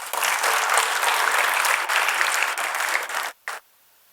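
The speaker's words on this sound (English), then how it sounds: "Please welcome them with a round of applause." A conference audience claps in sustained, dense applause that stops abruptly, followed by one brief final burst of clapping before silence.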